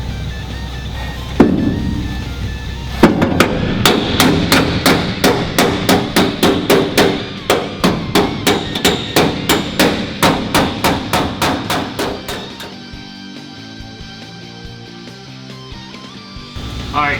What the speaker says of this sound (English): next we're going to hammer and dolly our flange in the rear